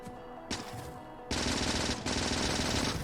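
Automatic gun turrets in Factorio open up with rapid machine-gun fire, one short burst followed by a sustained, dense rattle of shots that continues nearly unbroken to the end.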